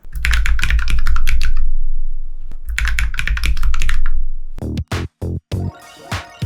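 Steady typing up close on a self-built, solder-free kit keyboard with a 3D-printed case and anti-slip backing sheet, a dense run of clicky keystrokes, a short pause, another run, then a few louder separate key taps and thuds.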